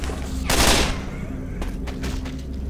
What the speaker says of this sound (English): Deploying frag rounds!